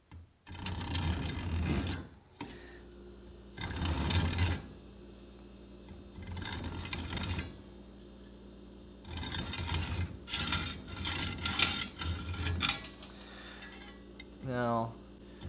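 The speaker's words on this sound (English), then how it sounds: "we're going to cut the ends off first with the hacksaw, like so." A hacksaw cuts the ends off a workpiece up close, in several separate bursts of rasping back-and-forth strokes with short pauses between them.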